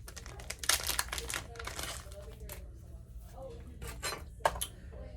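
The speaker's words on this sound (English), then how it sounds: "Then you're going to take your mylar" Sheet of mylar tinsel crinkling and rustling as it is handled at a fly-tying bench, with several sharper crackles, fairly quiet and close.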